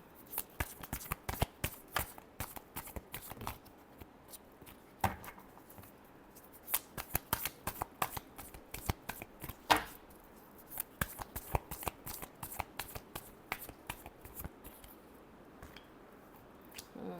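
Tarot cards shuffled continuously by hand, a steady run of crisp riffling slaps and flutters close up, with no talking.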